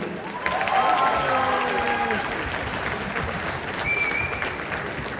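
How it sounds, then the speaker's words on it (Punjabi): An audience at a Punjabi stand-up comedy show in New Zealand breaks into loud, sustained clapping mixed with some cheering, the applause swelling quickly and then holding steady to the end. "ਖੁੱਲ ਕੇ ਮਾਰੋ ਜਰਾ ਤਾੜੀਆਂ ਇੱਕ ਵਾਰੀ"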